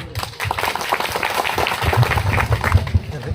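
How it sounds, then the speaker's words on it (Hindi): A crowd claps and applauds with dense, continuous clapping, mixed with some voices in the background, at a public talk about the history of Raja Shankar Shah and Raghunath Shah. "एक बार जोरदार ताली फिर से हमारे दादा मरावी जी के लिए"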